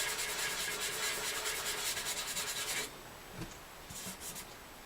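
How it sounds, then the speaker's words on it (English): Dry sandpaper rubbed back and forth on a razor blade, a dense steady scratching close up that stops abruptly, followed by a few faint scrapes and bumps. "We're sanding dry here right now."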